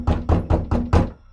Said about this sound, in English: someone began knocking again.